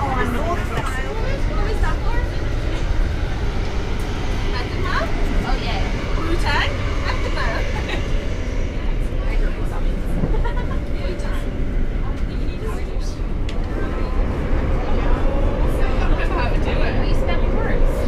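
Steady rumbling of a train interior with rattles and clatter, while people chat nearby throughout.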